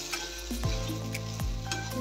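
Spices and red chili powder being stirred into a hot pan for a Maharashtrian capsicum bhaji, with a steady close sizzle and spoon scraping in short strokes, no voices.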